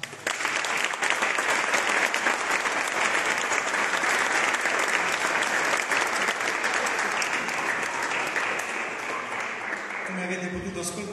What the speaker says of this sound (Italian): Grazie di cuore, fatevi un applauso.